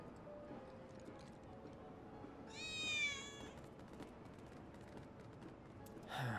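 A cat in the video game Final Fantasy 7 Remake gives one clear, rising-and-falling meow lasting about a second over quiet ambient game sound, followed by a brief faint chirp.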